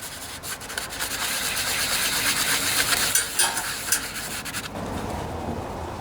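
Old gasket material scrubbed in circular strokes off the surface of a Briggs and Stratton OHV Intek engine, a continuous close rasping rub that stops abruptly near the end, with no talking.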